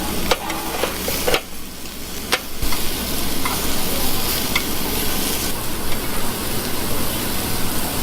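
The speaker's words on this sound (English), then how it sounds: "that is a Korean pork belly that you cook yourself at the table" Korean pork belly sizzles loudly and continuously on a tabletop grill, a dense hissing crackle close by, with a few sharper clicks and taps near the start.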